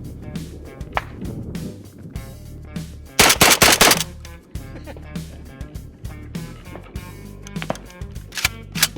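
A semi-automatic shotgun loaded with birdshot fires rapidly outdoors in a fast string of sharp, loud blasts, with the densest, heaviest volley in the middle.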